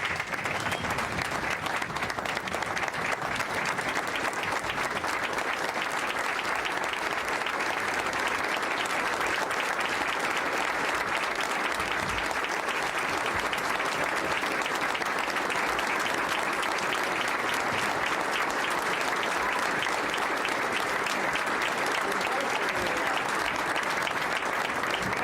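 An audience applauds a guest of honor at a Citizen of the Year event, sustained even clapping from a crowd lasting the whole stretch with no let-up.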